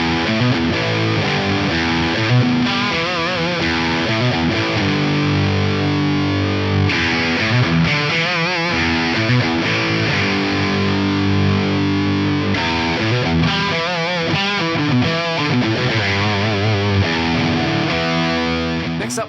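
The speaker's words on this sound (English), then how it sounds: "You could even add a little bit of distortion on there just for some light extra clipping there." Electric guitar played through a Boss DS-1 distortion pedal, loud and continuous, with crunchy chords and riffs and no voices.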